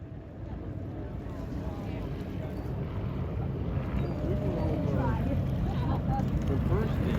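Powerboat engines roaring at the 2021 Key West championship boat race, a broad steady drone that swells slightly with wind buffeting the microphone, heard from the shore while people chat nearby.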